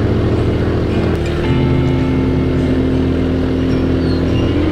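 A car engine drones loud and steady as it pulls uphill along a mountain road between Ketep Pass and Kopeng, with constant low rumble and road noise and no talking.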